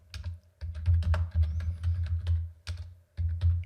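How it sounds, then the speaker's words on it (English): Fingers type on a computer keyboard at close range, producing quick bursts of clicking keystrokes with brief pauses, over a low steady hum. "So I'm going to just clear my screen here and type Terraform"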